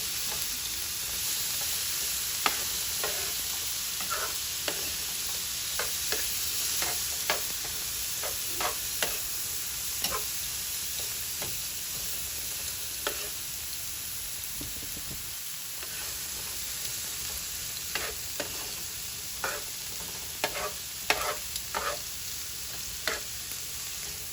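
Vegan taco filling cooking in a seasoned pan, a steady close sizzle running throughout with scattered light clicks and scrapes of stirring.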